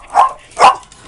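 A dog lets out two short, loud barks about half a second apart, close to the microphone, with no talking.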